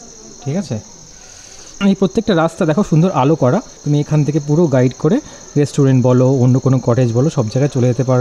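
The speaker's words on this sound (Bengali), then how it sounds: "প্রচুর ঝিঝি পোকার ডাক দেখো অলরেডি শুরু হয়ে গেছে" Dense cricket chirping fills a night scene among decorated trees at a forest eco-resort, a steady high buzz running continuously beneath close conversational speech.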